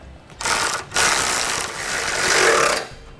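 A ratchet tightening a fastener on the passenger side of a 2010 Honda CR-V: two loud, close bursts of rapid buzzing clicks, the second one long and sustained.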